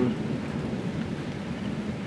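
Rain falling outside with distant thunder, a steady broadband hiss and low rumble holding evenly through the moment, with no distinct thunderclap.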